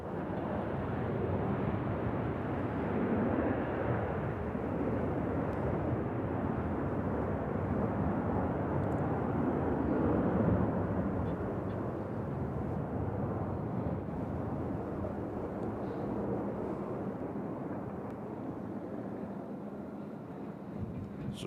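An airliner arriving from Seattle lands at Nashville International Airport, a broad sustained engine roar heard from a distance that swells slightly midway and then eases off, steady throughout with no voices.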